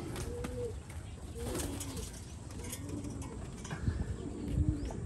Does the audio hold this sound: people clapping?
no